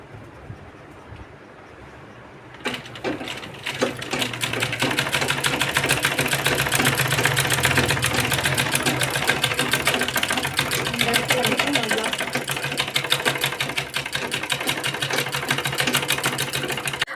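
Sewing machine stitching a pant, starting after a quiet moment and running steadily and loud with a fast rhythmic whir that continues to the end.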